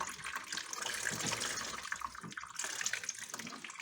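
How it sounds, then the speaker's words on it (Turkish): Water poured into a refrigerator to melt built-up ice runs and drains in a continuous splashing trickle, close by and fairly soft, with no voices. "Bakın şu anda döktüğümüz su buradan boşalıyor."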